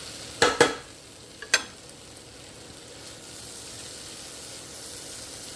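Tofu frying in a pan gets stirred, with a few sharp clatters of a utensil early on and then a steady low sizzle that continues quietly on its own.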